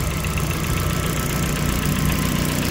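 A 2007 Chevrolet Classic's 1.0 engine runs steadily at idle, a continuous low, even drone heard close up at a used car fair, with no talk over it.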